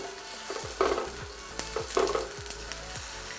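Chopped onions sauteing in olive oil, a close continuous sizzle broken by rhythmic scraping strokes of a spatula stirring the pan, about one every half second.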